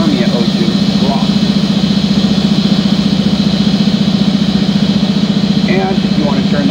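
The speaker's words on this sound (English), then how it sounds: "You'll notice that the machine is still running on the low pressure side." Nuvair Voyager compressor running steadily with a loud, continuous mechanical drone and rapid pulsing hum, with a person talking over it.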